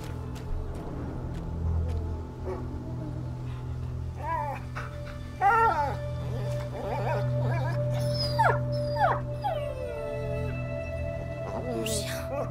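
Lion the dog howling and whimpering in A Plague Tale: Innocence, a few rising, wavering cries over a steady low drone and ambient game sound, with a voice calling out.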